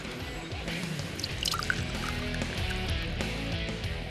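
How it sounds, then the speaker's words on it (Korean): Marsh snail extract oil dripping down from an upper crock into a collecting vessel in a traditional process, heard as a busy run of soft drips and trickling liquid, close and fairly steady throughout, with no one talking. "이 안에서 다슬기 그 진액들이 밑으로 똑똑 떨어지면서 이 받아낸 게 이제 다슬기 기름이에요."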